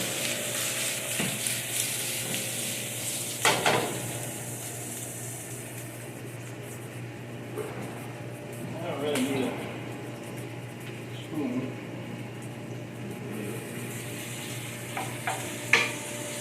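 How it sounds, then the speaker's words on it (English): Onions sizzle steadily in a hot pan while a utensil stirs and scrapes now and then, with a voice talking over it. "So it's starting to sizzle."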